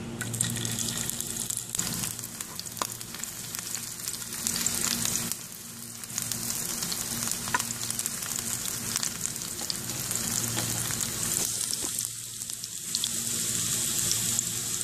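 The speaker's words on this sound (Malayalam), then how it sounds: "നെയ്യ് ചൂടായിട്ടുണ്ട് ഇതിലേക്ക് ഇനി അരിഞ്ഞു വെച്ചിരിക്കുന്ന ചുവന്നുള്ളി ചേർക്കാം" Chopped shallots sizzle and fry in hot ghee in a pan, a steady, dense crackle that holds close and loud throughout with no talking.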